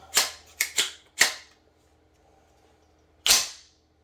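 Four sharp gunshots from a SAR USA 109T AR-9 pistol-caliber carbine with an 8.6-inch barrel, three in quick succession and a fourth after a short pause, then a final report after about two seconds of quiet.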